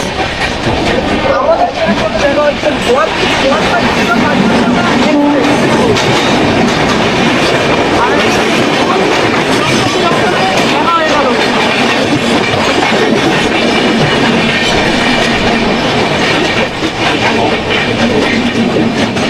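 The 13150 Kanchankanya Express passes through Dum Dum Junction with loud, steady clickety-clack of wheels over rail joints and a dense rumble that lasts throughout, close by, with faint voices beneath it.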